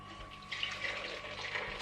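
Homemade oat milk being poured from a container, a soft continuous trickling splash at moderate distance, steady for a couple of seconds with a faint background hum.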